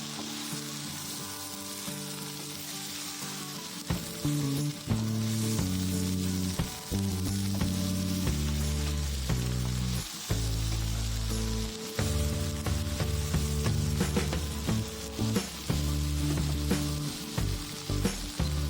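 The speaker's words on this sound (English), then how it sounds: "I'm stirring it very properly so that it won't stick at the bottom." Food sizzling in a pan while being stirred during healthy home cooking, a steady frying hiss running under prominent background music for the whole stretch, without speech.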